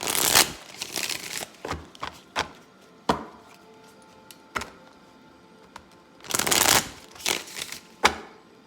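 Tarot cards riffle and slap together in close, crisp bursts, with a few long shuffles at the start and end separated by short taps and pauses.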